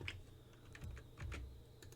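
Keys are pressed on a computer keyboard while working in CAD software, giving a faint, quiet scatter of separate clicks and taps spread unevenly across a couple of seconds.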